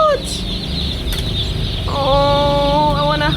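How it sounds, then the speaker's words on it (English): One-day-old chicks chirp at a vendor's stall, high peeping calls rising over a busy background of clucking fowl and general bustle, steady and close. "They are one day old chicken."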